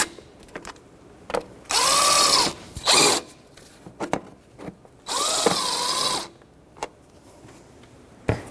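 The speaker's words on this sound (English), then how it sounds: "Start it by hand, put the nut on this side, 10mm socket, and just snug them up." Power tool runs in two sustained bursts, each roughly a second long, pitching down as it loads, with sharp clicks and clatter around them. It is snugging 10mm nuts on a camshaft position sensor of a 2006-2012 Toyota RAV4.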